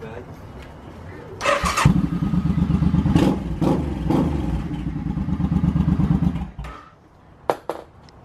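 A Suzuki Boulevard motorcycle with a recently jumped battery cranks with a rapid, loud starter chug for several seconds, then cuts off, followed by a couple of sharp knocks.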